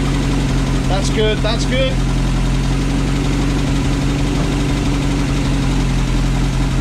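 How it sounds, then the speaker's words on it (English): A 1977 Rover P6 2.2TC engine runs at fast idle close by, giving a steady, loud, low mechanical drone with even rhythm, while someone briefly speaks over it. "50 PSI on fast idle's good."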